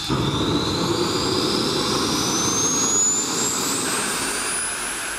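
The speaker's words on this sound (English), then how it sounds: "a single-seat, kit-built airplane that's powered by a modern jet engine" A small jet engine on a SubSonex JSX-2, a single-seat kit-built personal jet airplane, roars steadily and loudly throughout, with a high whine slowly rising in pitch.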